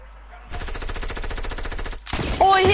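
Rapid automatic gunfire aimed at an enemy in a video game, a steady run of evenly spaced shots that is loud and close, stops abruptly, and gives way to a brief burst of other game noise.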